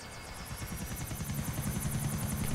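A helicopter in Grand Theft Auto IV flies steadily with a fast, rhythmic rotor thump over a continuous engine whine, growing slightly louder and closer toward the end, with no talking.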